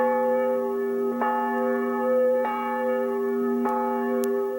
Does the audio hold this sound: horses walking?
no